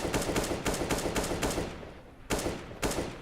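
Rapid bursts of pistol fire in a shooter video game, several evenly spaced sharp shots, a brief pause, then two more, loud and close with no talk.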